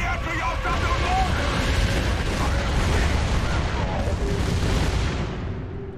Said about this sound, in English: Mortars! Take cover!